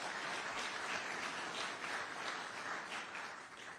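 Steady audience applause rolls through a hall during a governor's news conference in Tampa, a dense continuous clapping at moderate distance with no talk over it.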